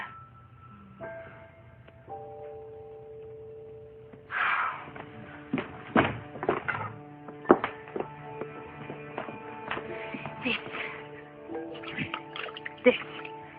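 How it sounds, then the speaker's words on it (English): Water splashes and drips from a hand pump, with scattered taps and clatters and a tonal hum running underneath, building after a quiet start. "This is water."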